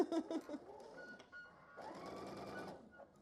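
A sewing machine runs a brief, faint, even whir while finishing the last seam of a quilt block, with quiet handling sounds and a voice talking around it.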